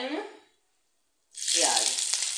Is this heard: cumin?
yes